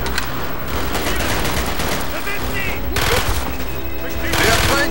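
Rapid gunfire in the Call of Duty Black Ops video game, dense bursts of automatic shots crackling continuously with louder volleys near the end, mixed with a voice talking over the shooting.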